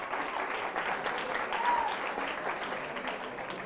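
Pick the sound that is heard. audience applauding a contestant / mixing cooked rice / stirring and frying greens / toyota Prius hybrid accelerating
audience applauding a contestant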